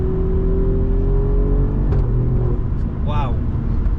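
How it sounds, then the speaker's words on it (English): Alfa Romeo Giulia Quadrifoglio accelerating hard through the gears, a loud cabin engine drone rising steadily, then cut by a sharp break at the upshift, with a short burst of talk near the end. "It definitely makes nice sounds on the upshifts."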